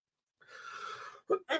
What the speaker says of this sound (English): I've been coughing all night.